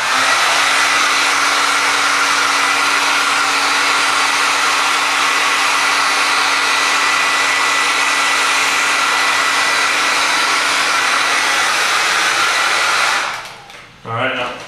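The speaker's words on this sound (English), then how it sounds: "I'm going to take the hair dryer and just kind of dry the alcohol off" A hair dryer blows with a loud, steady rushing whir close by for about thirteen seconds, drying alcohol off a pistol grip, then switches off and winds down.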